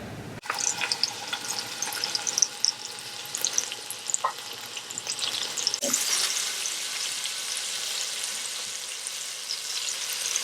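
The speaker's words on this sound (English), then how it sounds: "You can hear it sizzling." Pot roast searing in an Instant Pot gives a steady, close sizzle and crackle, with brief splashy bursts and clicks early on and a louder, denser hiss from about six seconds.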